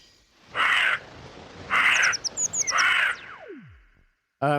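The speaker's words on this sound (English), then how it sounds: "we might add a little bird song coming in over top here" Three loud, harsh bird caws spaced about a second apart, with quick high chirps in between, a falling whistle, and another call starting at the end.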